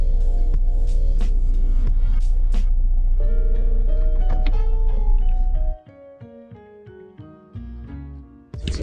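A Ford diesel engine with a particulate filter and EGR valve trouble fires up for a second start, running loud and steady, then suddenly drops to a rough, uneven idle with intermittent surges.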